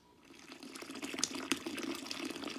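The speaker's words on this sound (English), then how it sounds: "Now we're adding in the sparge water." Sparge water is poured into the mash during a Black IPA brew day, making a continuous, fairly quiet splashing pour that lasts a couple of seconds.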